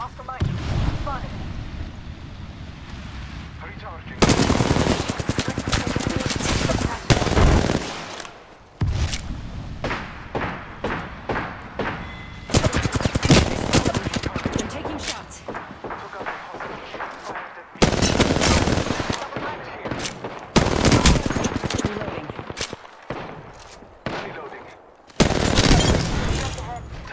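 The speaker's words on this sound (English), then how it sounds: "I'm taking fire." Gunfire in the battle royale video game Apex Legends: repeated loud bursts of automatic fire and sharp shots come in clusters with short gaps between them, and players talk in between.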